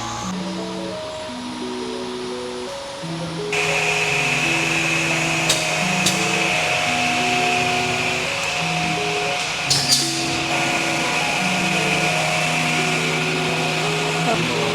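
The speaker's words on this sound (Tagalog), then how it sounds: "And now, let's proceed to edge band machine." An edge band machine edges modular cabinet boards with a steady mechanical whir and hum, stepping up louder partway through, with occasional clicks and a shifting tonal drone throughout.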